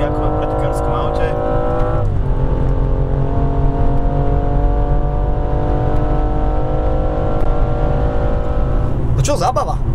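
A BMW M235i F22 coupe engine revs hard and steadily during a power slide on a track, loud and close with shifting tones, ending with a faint tyre squeal.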